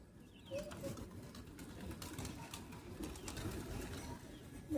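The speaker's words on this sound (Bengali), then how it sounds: "আজকে অনেকগুলো পায়রা এসেছে। আমি চাল দিয়ে এলাম এইমাত্র, দেখো সব মারামারি লেগে গেছে।" A large flock of pigeons crowds over scattered rice, cooing in low, overlapping calls with soft fluttering and scuffling, close and continuous throughout.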